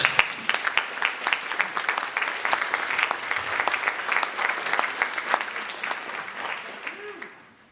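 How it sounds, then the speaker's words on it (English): An audience at a school board meeting gives a round of applause, many hands clapping steadily and fading toward the end, moderately loud in an indoor room. "I think she deserves a round of applause."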